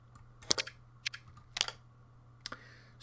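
Card drawn during a solo round of the Go Ahead Punk board game, heard as a few light, close clicks and snaps of card stock spaced irregularly over quiet room tone.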